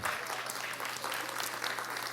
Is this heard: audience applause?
yes